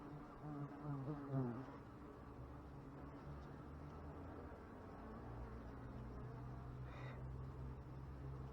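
Wasps buzz around a beekeeper outdoors, a low droning hum that circles close by and rises and falls in pitch as individual insects pass near.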